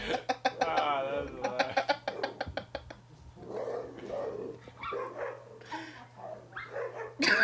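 A dog barks in rapid repeated bursts up close, then shifts to yips, whimpers and cough-like sounds indoors, with a steady low electrical hum underneath.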